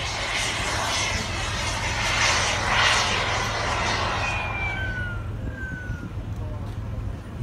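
A model J10 jet aircraft engine at an outdoor model show roars steadily and swells as the throttle rises, then eases off, with faint whistling tones near the end.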